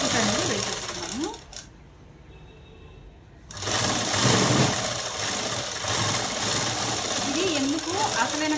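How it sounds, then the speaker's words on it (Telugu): A sewing machine stitches a straight seam on a collar-neck dress with a rapid mechanical chatter, stops briefly, then resumes running steadily while a voice speaks over it. "ఇలా కుట్టుకున్న తర్వాత ఇంకా స్ట్రైట్ కుట్ అనేది వేసేస్తున్నాము."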